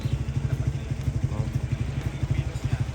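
A motorcycle engine idles close by during a breakfast ride, its steady rhythmic low chugging pulsing evenly throughout with light mechanical clatter on top.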